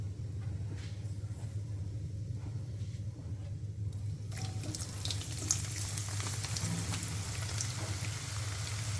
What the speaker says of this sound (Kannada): ಎಲ್ಲ ಇದೇ ಥರ ಫ್ರೈ ಮಾಡ್ಕೊಳ್ಳೋಣ